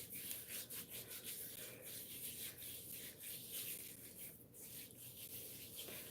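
Coarse exfoliating hand scrub rubbed between the hands makes a faint, close, gritty rubbing in uneven back-and-forth strokes, with no speech.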